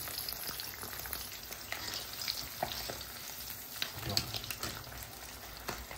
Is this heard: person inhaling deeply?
no